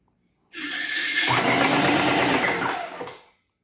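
A used Ryobi paint sprayer pumped up to pressure starts spraying paint with a sudden loud, steady buzzing hiss. It runs for about two and a half seconds and then cuts off, with no voices.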